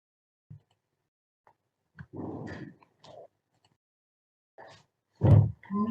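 A dog in the video game Raze gets hit, giving short growling yelps and whimpers in scattered bursts, with one louder yelp near the end, over an otherwise quiet background.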